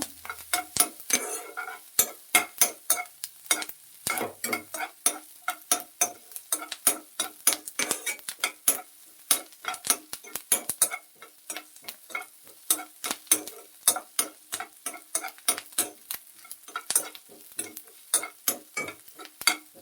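Onions sizzle in ghee in a pan while a spoon stirs and scrapes them in quick, steady strokes, giving a dense run of close clicks and scratches over a soft frying hiss, with no voices.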